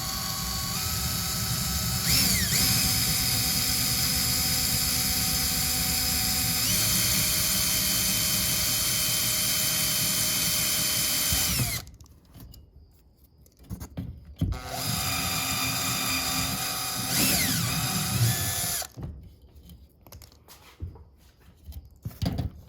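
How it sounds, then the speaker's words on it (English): A step bit drills a 3/8 inch hole through a Jeep roof rail, a loud steady whine for about twelve seconds, then shorter bursts of drilling separated by pauses. "So I'm going to use the step bit, and I just marked it to make sure I don't go too deep."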